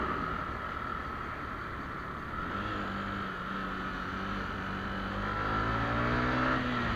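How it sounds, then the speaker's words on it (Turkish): A motorcycle engine idles and revs steadily on a roadside, its exhaust firing in a continuous low drone that swells slightly toward the end. "Baksana abi ya şu motorun atışına kurban olsunlar be"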